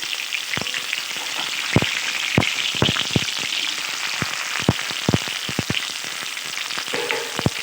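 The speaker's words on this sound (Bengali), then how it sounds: "কপিগুলো কিন্তু খুব ভালোভাবেই ভাজা হয়ে গেছে।" Oil sizzles steadily under cabbage pieces frying in a wok, broken by sharp, scattered pops and spatters at irregular intervals; nearby and constant, with no talking.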